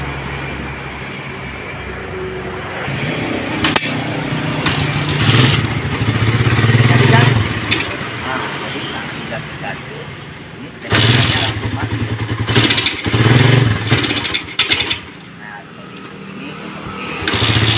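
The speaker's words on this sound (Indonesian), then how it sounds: "Di sini dia sudah menggunakan karburator PE28 Kehin, baru dibeli. Coba kita tes hidupkan," Motorcycle engine fitted with a new Keihin PE28 carburetor idles and revs in irregular bursts, loud and close, with a brief drop partway through before it picks up again.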